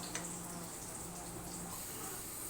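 Sugar-sweetened water is poured into semolina frying in ghee for halwa, making a loud, steady hiss and sizzle that fills the whole moment without a break.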